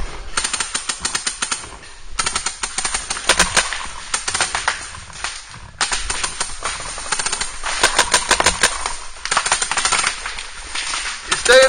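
Rapid bursts of paintball or airsoft guns firing during outdoor open play, long rattling strings of shots, loud and close, broken by short pauses, with faint voices in the background.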